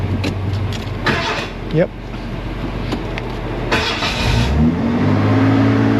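A Ford F150 pickup cranked in neutral while its no-start fault was being tested, catching and settling into a steady idle near the end, with a brief spoken word over the engine noise.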